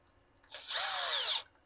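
Power drill driving a black screw into rubber inside a Honda DX ignition module, one close whirring burst of just under a second that rises and cuts off, nothing else.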